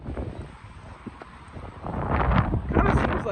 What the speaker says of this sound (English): there's definitely some very gusty winds with this shower